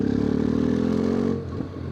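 A motorcycle fitted with Black Widow headers exhaust cruises in 4th gear at 2,000 RPM, giving a steady, close, throaty drone that eases off near the end.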